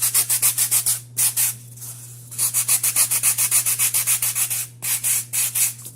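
Rapid rhythmic sanding strokes on a cold porcelain (biscuit) Funko Pop figure, quick back-and-forth rubs in several bursts with brief pauses, close and crisp over a steady low hum.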